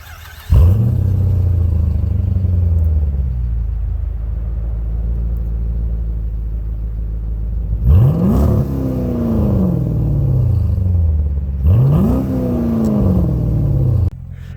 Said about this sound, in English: This still sounds pretty good. I'll give you a quick rev.